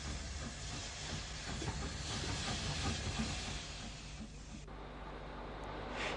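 An ex-Midland Great Western 0-6-0 tank steam locomotive passes at Glanmire Road in Cork, a faint, hissing rush of steam and rolling rail noise that cuts off abruptly near the end.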